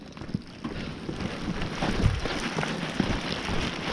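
A rain shower hisses down steadily across a mountain trail on Mt. LeConte, with wind pushing it and a few louder drops and thumps scattered through the dense wash of rain.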